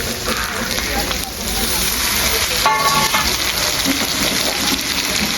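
A cumin and coriander paste sizzles and spits as it hits hot oil in a pan for chicken biryani, a steady crackling hiss with a brief spatter in the middle.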